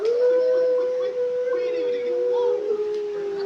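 A child imitates a wolf howl in one long, sustained, wavering wail that bends down near the end, loud and close, with nothing else sounding under it.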